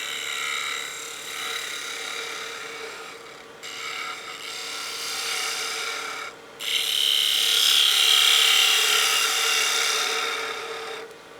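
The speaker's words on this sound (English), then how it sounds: "And that 3/8 gouge is really the only tool I've got to get in there and make these detail cuts." A 3/8 gouge cuts wood on a lathe while turning a wine glass, giving a continuous close rasping scrape that pauses briefly twice and grows louder as the cut deepens.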